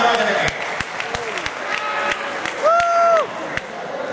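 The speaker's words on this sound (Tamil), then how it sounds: "எங்கே மீண்டும் உங்கள் கரகோஷம் ராஜராஜனுக்கு." An audience at a stage show in Sydney claps in separate, sharp beats spaced fairly evenly, thinner than a full ovation. A voice speaks over the clapping.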